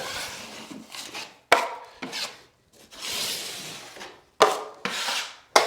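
A drywall knife pressed hard along a corner, spreading compound over paper tape in long rasping swipes with short pauses between strokes, close and clear with no talking.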